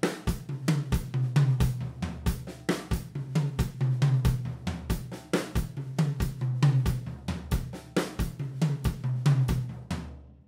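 A full drum kit plays a triplet groove, with the second and third notes of each group moving around the toms while kick and cymbals keep time, producing a dense, loud, rolling pattern with no talking.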